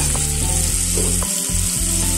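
Vegetables seasoned with salt and turmeric are stirred in a frying pan, producing a dense continuous sizzle over a low background hum, with occasional scraping strokes and no talking.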